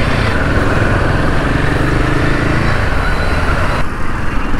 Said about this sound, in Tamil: ஆக்சுவலாக வந்து இந்த எக்ஸாஸ்டோட சவுண்ட் நல்லாயிருக்கு